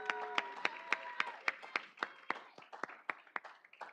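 Applause for volunteers standing in the room at a Draft Night event: sparse, distinct claps from a small group, fairly soft and evenly spaced, with a faint tonal murmur early on.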